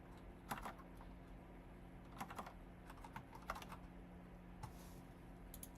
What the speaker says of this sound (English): can I please hit the right keys on my keyboard?